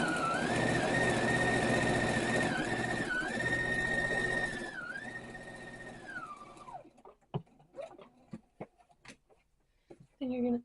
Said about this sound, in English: and then just sew again.